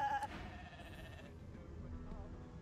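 A sheep in the video game Divinity Original Sin 2 gives a brief, fairly faint bleat near the start, followed by quiet game ambience.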